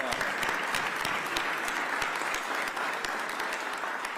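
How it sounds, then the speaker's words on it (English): A crowd gives another round of applause for the Philadelphia Eagles organization at an event announcing the 2025 Super Bowl parade. Dense, continuous clapping fills the whole stretch at an even level, with no talking over it. "So let's give the Eagles organization another round of applause."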